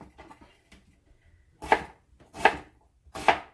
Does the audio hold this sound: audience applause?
no